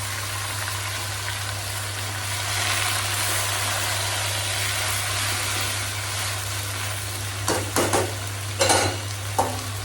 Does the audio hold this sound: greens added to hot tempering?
yes